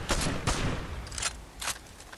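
Gunfire in a shooter video game: a few sharp, separate shots or short bursts crack out at irregular intervals, moderately loud, with quiet background in between and no talking.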